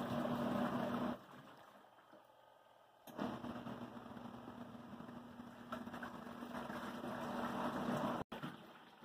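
A Costway countertop clothes washing machine churns through a short delicates wash cycle, a steady motor drone with sloshing water that drops off briefly and then starts again, moderately loud and nearby.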